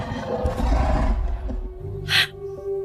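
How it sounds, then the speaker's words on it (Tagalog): A deep, growling breath rasps close by, followed by a sharp hissing exhale and a low rumbling intake, eerie and creature-like. "marinig ang nakakatakot na tunog ng paghinga ng isang halimaw"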